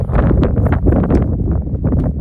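Low, rumbling gusts buffet the microphone continuously outdoors on a dreary, windy day, a dense fluttering roar with uneven surges and no voices.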